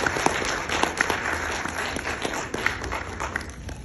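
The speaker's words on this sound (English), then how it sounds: "can you please have a big round of applause for her?" Audience applause fills a movie screening hall at ISKCON Perth, a steady wash of many hands clapping at moderate level, with scattered sharper claps standing out and no talk over it.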